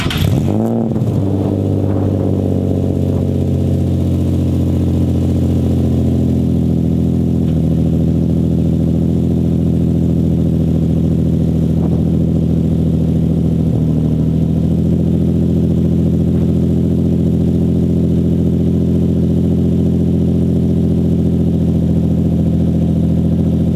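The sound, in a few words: Infiniti G35 cold start with straight-piped catless exhaust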